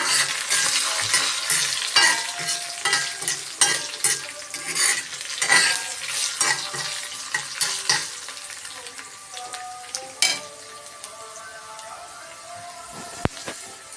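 Asafoetida powder being stirred into onions frying in oil for onion pickle: a steady close sizzle with repeated scraping stir strokes that thin out toward the end, no voices.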